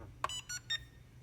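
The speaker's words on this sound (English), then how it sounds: "moving the left throttle stick up and down until you hear a beep" Drone beeping as its transmitter binds: a short sharp electronic beep followed by two quieter repeated tones, close and clear with no talk.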